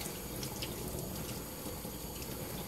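Water running from a tap while a cleaned black drum fish is rinsed, a soft, steady hiss and splash at low level with no speech.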